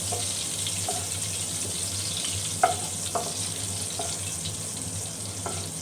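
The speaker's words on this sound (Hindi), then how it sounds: "हम इसको इलायची को सही से इसमें थोड़ा सा भूनेंगे" Green cardamom roasting in melted butter in a pan, a steady close sizzle with a faint underlying hum and a few light clinks of stirring scattered throughout.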